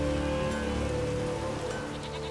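Steady rain falls in the dark fantasy game The Witcher 3: Wild Hunt, a constant hiss of drops on surfaces mixed with a low ambient drone and faint tonal background music.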